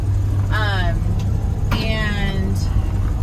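A 1978 Ford F150 Ranger Lariat pickup rolls along with a steady, low engine and road rumble filling the cab, while people talk over it throughout.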